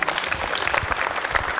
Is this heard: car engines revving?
no